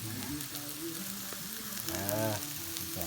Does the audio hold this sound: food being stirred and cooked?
yes